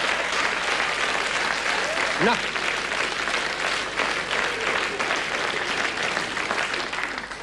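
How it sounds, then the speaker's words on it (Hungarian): Audience applause at a Hungarian comedy stage show, a loud, dense, steady clapping that fills the room throughout, with a performer's brief word over it. "nem kell tapsolni"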